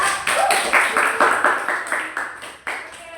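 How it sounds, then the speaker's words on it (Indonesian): A small audience in a group counselling session claps together in a loose, fairly even rhythm, close and fairly loud, fading slightly before one last sharp clap. "Boleh tepuk tangannya?"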